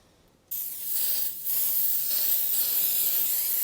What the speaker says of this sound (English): Get some silicone spray.